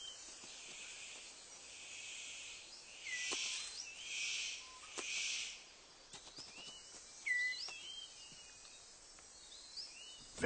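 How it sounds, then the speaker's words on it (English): A superb bird of paradise gives a series of faint, harsh, buzzy bursts in a quiet forest, with a few thin chirps and insect sounds scattered around it. "The superb bird of paradise calls to attract a female."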